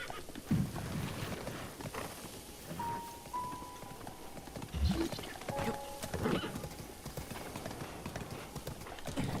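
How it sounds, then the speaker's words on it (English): Horse hooves clip-clop steadily across ground in Zelda: Breath of the Wild, with a brief whinny and soft ambient game tones and chimes over a light background wash. "you can actually get the horse through here, but I'll probably proceed on foot"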